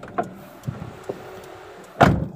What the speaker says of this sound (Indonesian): Ini kalau nutup pintu ini enak banget.